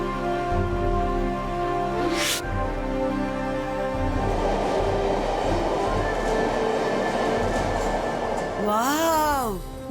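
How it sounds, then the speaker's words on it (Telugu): A metro train running, a steady loud rumble with tonal hum and a passing hiss, under a cartoon soundtrack with a rising-falling whoosh effect near the end. "వావ్, మెట్రో ట్రైన్ చాలా బాగుంది కదా, గాల్లో తేలుతున్నట్టుంది."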